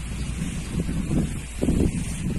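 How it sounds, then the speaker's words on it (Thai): Cold wind blows outdoors beside potted chili plants and buffets the microphone, making a low, rumbling roar that swells and dips in gusts, with no talking. "ลมหนาวพัดมาอีกแล้ว"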